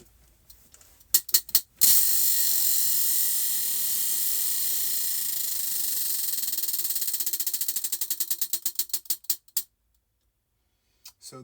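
A prize wheel spins to choose a crochet stitch for a bucket hat: a few loose clicks, then a long dense rattle of rapid ticks that slows into separate clacks before stopping, heard alone.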